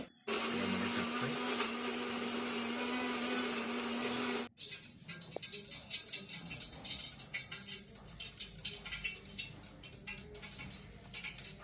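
An electric mixer grinder whirs loudly and steadily as it grinds roasted masala for chicken masala, cutting off abruptly after about four seconds, followed by rattling and scraping of the jar and lid.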